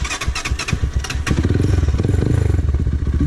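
A sports-style motorcycle is ridden over a rough rural road, its engine close and loud in a rapid, throbbing rumble that steadies into a continuous pulsing drone.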